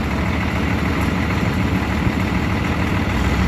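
An old tractor that once belonged to grandpa idles steadily, a close, continuous low engine rumble with no talking.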